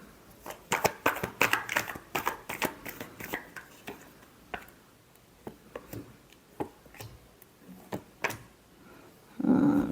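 Tarot cards being shuffled by hand in a love reading, quick crisp riffling bursts close up, dense at first and then thinning to scattered taps and flicks.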